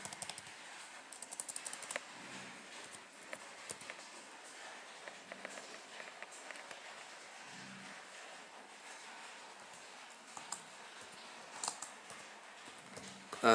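Fingers type on a Lenovo Yoga 510-14IKB laptop keyboard, light irregular key clicks at close range over a quiet background.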